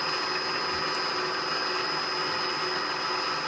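A 2-inch carbide insert face mill takes a light cut across a metal block, producing a steady, loud, continuous machining whine and hum with a high tonal edge, unbroken throughout.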